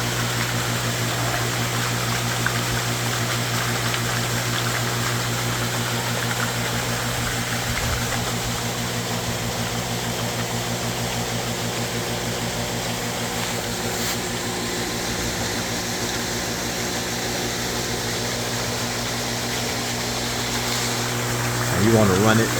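A pool sand filter pump runs steadily during a rinse cycle, producing a constant motor hum with rushing water noise that stays even and loud throughout, with a brief clunk near the end.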